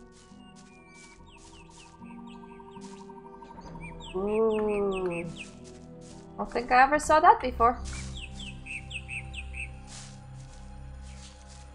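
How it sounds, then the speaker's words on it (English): Birds chirp and tweet in short repeated calls within the video game Gothic, set against a steady ambient game backdrop, while someone comments briefly over them. "Oh, I love the sound of the birdie birds."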